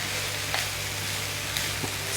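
Chicken stir fry sizzles steadily in a pan as ingredients are mixed in, a continuous close frying hiss with a few soft stirring clicks.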